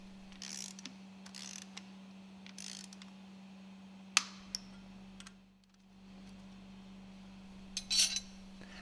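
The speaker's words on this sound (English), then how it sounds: "Tighten the nuts according to datasheet" Nuts being tightened on a cylinder cover during an overhaul, a few soft ratcheting bursts and sharp metallic clicks that are spaced apart, heard over a steady low electrical hum.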